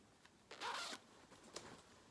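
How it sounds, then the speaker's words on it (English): Side zipper on a lace-overlay V-neck dress being run in one smooth, quiet pull of about half a second, followed by a short, faint second zip rasp, close and alone. "side zip."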